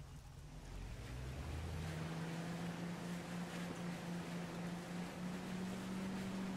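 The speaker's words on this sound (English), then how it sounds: "I got the boat to move." Boat moving across water, a steady low engine drone with a rising hum and a constant wash of water noise, continuous and fairly faint.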